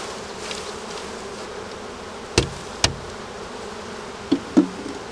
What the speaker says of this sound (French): Je vais lui donner 2 cadres d'abeilles nourricières qui vont venir de cette ruche